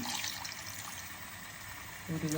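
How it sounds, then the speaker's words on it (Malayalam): Water pours steadily into a pan of jaggery in a home kitchen, a soft continuous trickle heard close but faint, with a voice starting to talk at the very end. "ശർക്കരയ്ക്കകത്തേക്ക് വെള്ളം ഒഴിക്കുകയാണ്"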